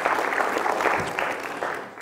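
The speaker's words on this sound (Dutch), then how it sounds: "Applaus voor de jury." Audience applause at a Hardenberg dictation contest, a steady wash of clapping from a crowd in a hall, loud and continuous for the whole stretch with no talk over it.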